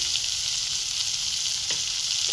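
Onion-tomato masala fries steadily in a pan while a dried-fish and potato dish is cooked, a constant close hiss with a couple of faint stirring scrapes.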